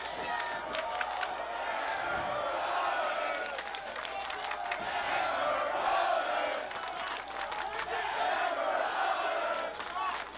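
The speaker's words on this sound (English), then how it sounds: "the deafening sound of the Blair Alley crowd, all chanting in unison, Hammer Brothers!" A large arena crowd at a wrestling-style event roars and yells together, a dense continuous wall of cheering with rhythmic bursts and scattered claps, fairly distant and steady for about ten seconds.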